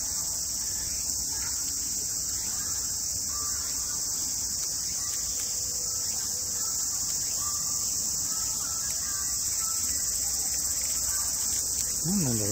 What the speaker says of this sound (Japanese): セミがうるさいって言われて